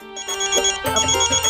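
A telephone ringtone plays as a bright repeating electronic melody, close and fairly loud over a low background bed, with no talking during the ring.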